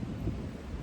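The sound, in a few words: thunder rumbling in the background during a storm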